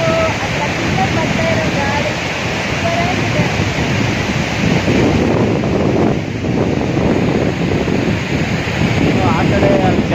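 River water spills over the Palar dam at Bethamangala in a constant broad roar. Heavy wind buffets the microphone, and a voice is faintly present at times.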